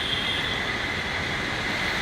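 A metro train rumbles steadily with a broad, even roar and a faint high squeal of wheels on the rails, continuous throughout, with no voices.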